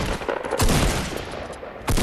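Rapid bursts of gunfire in the video game Fortnite crackle loud and close, several clustered shots in quick succession with a heavy blast near the end.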